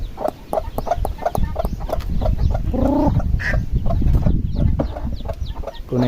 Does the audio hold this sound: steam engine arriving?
no